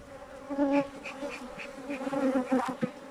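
Honey bees hum in a dense, steady drone close by, with individual buzzes swelling and fading over the continuous hive sound.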